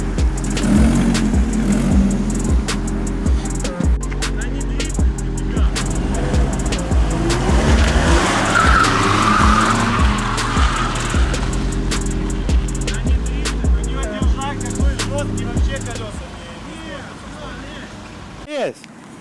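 Mercedes W202 car engine running loud and close while the car turns, with a rising tire squeal or skid midway, over continuous engine drone; people talk over it before a sudden stop near the end.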